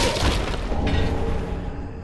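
A firebomb bursting in Dark Souls III, heard as a deep, loud boom that rolls straight into a dense roaring rumble and fades slowly over about two seconds, with no voices.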